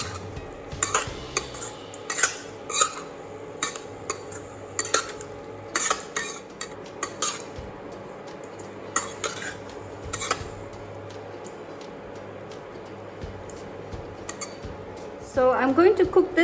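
Gooseberry pickle with chili powder stirred in a pot, giving intermittent scraping and clinking strokes of a spoon against metal over a steady low hum, with a brief louder clatter at the end.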